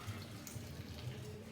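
Water poured from a container into a well of flour for bread dough, a soft steady splashing trickle, close and fairly quiet, alone without talk.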